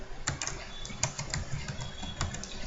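Rapid typing on a computer keyboard while writing PHP code, a close run of sharp uneven key clicks with brief pauses, no talk over it.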